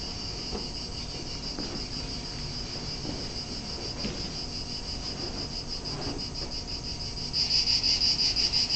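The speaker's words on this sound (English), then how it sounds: "So that's a cicada." Cicadas buzz in a steady, dense, high-pitched drone that runs the whole clip without a break and grows louder and more pulsing toward the end.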